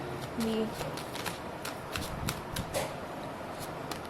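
Oracle card deck being shuffled and cards drawn, a soft continuous riffle of papery flicks with repeated light snaps, close by and fairly quiet, with a voice speaking now and then.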